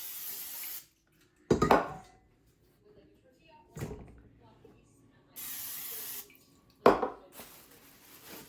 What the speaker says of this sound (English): in the bowl, I need to spray it.